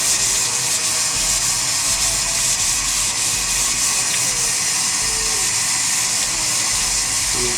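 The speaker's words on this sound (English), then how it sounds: "and you sand it." Sandpaper rubs steadily across a mould, a continuous loud, close, hissing scrape with no pauses and no voices.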